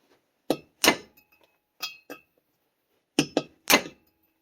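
Hammer blows strike cylinder head valve springs on a 4A-FE engine: sharp metallic clinks in two clusters of three and four irregular hits, separated by silence.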